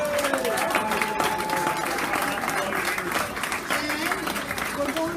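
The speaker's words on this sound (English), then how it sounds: "Let's give a big applause for Kevin." Audience at the 2015 Merasheen variety concert applauding, a dense sustained wash of many hands clapping in a hall, steady and fairly loud throughout, with some voices calling out faintly among the clapping.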